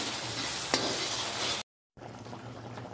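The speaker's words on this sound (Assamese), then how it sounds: "আৰু এইখিনি এতিয়া তেলত দিয়ে একেবাৰে গলি যোৱালৈকে এয়া লৰাই আছোঁ বিলাহীখিনি" Tomatoes cook in oil in a pan with a soft, continuous sizzle and faint stirring scrapes, cut by a brief silence partway before the quieter frying resumes.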